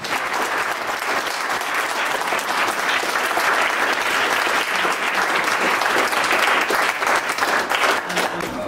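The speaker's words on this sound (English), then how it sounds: "So if we can have a round of applause for the coaches." An audience of children and families at a youth games celebration applauds the coaches, a full, steady round of clapping that stays strong and even throughout, with faint voices mixed in.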